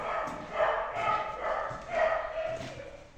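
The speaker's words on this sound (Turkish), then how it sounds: "Onunla oynayacağım diye havlayıp duruyor sürekli" Dog barking indoors in a pet shop being set up with shelves and new aquariums, a run of repeated yips and barks spread across a few seconds, fairly close and moderately loud.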